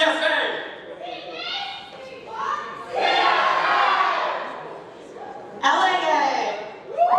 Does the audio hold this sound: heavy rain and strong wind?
no